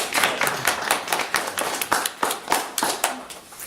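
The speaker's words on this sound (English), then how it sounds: "So if you can all give Terry Fritter a warm round of applause." A small audience at a campus workers collective event giving a warm round of applause, individual claps distinct in a fairly quick, uneven rhythm, close by and without talk.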